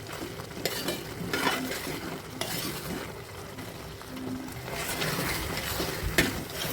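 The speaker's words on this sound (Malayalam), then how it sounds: "ശർക്കരപ്പാനിയൊക്കെ ഇവിടെ നല്ലവണ്ണം തിളച്ച് വറ്റി വരുന്നുണ്ട്" Jaggery syrup for Kerala ada pradhaman bubbles as it thickens in a pan, with a steady soft simmer and repeated scraping strokes of a spoon against the metal. No voices are heard.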